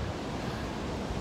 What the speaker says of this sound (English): It is a bit blowy, a bit windy.